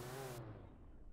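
A Lamborghini Aventador engine in a video game hums with a steady mid-pitched tone that rises briefly and then fades into a low, muffled drone, with no voices over it.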